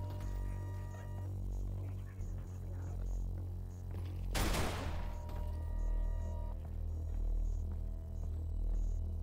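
A single loud gunshot from a tactical operator mod of the VR shooter Half-Life: Alyx, one sharp crack over a steady electronic hum and game drone.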